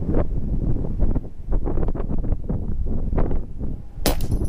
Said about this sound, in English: It might even be higher now than 25-mile-an-hour winds.